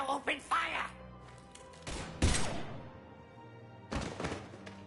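Mass Effect 3 game audio with a few heavy thumps and bursts of gunfire interrupting dialogue, with characters talking before and between the shots.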